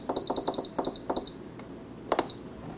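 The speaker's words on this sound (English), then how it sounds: "This has just beeped to let me know that it's done" Electric pressure cooker beeping near at hand, a quick run of short, bright beeps in clustered bursts, then a pause and one more brief pair.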